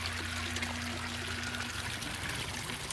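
Water trickling down a vertical aquaponics system, a constant close splashing stream with a low steady hum beneath and no voices.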